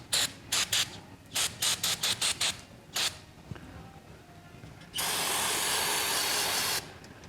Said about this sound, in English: will I even be able to get a torque wrench on there